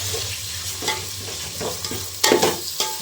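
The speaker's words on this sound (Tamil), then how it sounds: "இஞ்சி பூண்டு வந்து 75 கிராம் சேர்த்துக்கிறேன்" Ginger garlic paste hits a hot pan for chicken biryani, crackling with a close, loud sizzle broken by scraping stirs and spoon knocks on the pan, no talking.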